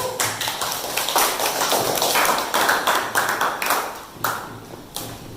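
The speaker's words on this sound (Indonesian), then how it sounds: "Tepuk tangan untuk kelompok 2." A classroom of students claps for group 2 after its presentation, close, uneven bursts of hand claps that swell and fade in waves before trailing off.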